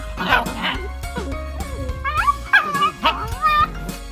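Several young dogs yip, whimper and bark in quick, overlapping bursts, squabbling close up and fairly loud, with rising and falling squeals between sharper barks.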